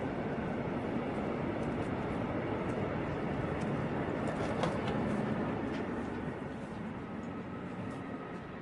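A train arrives with a continuous broad rumble that holds steady for several seconds and eases slightly toward the end, with no voices over it.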